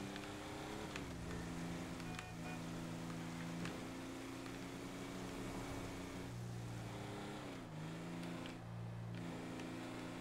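A ghost tractor's engine drives along in a video game, a steady low droning hum with harmonic tones that shift slightly in pitch as it rides, holding constant throughout.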